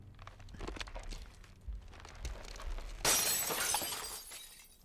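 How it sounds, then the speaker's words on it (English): Glass shatters abruptly and loudly after a stretch of low rumbling and scattered knocks, the bright crash and tinkling debris fading over the final seconds. "It wasn't in the budget to show him shattering that, so they just made the noises."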